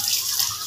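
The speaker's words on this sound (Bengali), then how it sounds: "একটু জল নিয়ে নিতে হবে।" Water pouring steadily into a pan while cooking potol dorma, a continuous close splashing stream with no talk.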